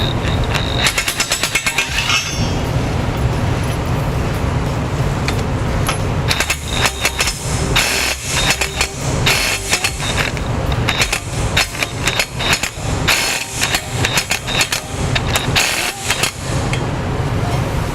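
Power tool rattles in loud bursts tightening bolts while a trailer hitch is fitted to a 2015 Ford Explorer, with busy mechanical hammering throughout and short pauses between runs.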